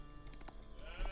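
A sheep bleats in the Age of Empires IV strategy game: one brief, faint call over quiet game background.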